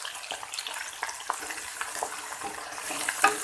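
Okra (bhindi) frying in hot oil in a kadhai wok, a steady soft sizzle with small crackles and a few brighter spits, close and without talk.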